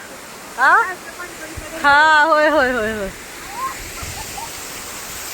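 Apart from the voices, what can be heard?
waterfall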